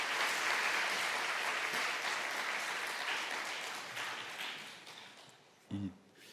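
A church congregation at an Easter service claps loudly and together, filling the room. The applause slowly thins and fades, and a brief voice is heard near the end.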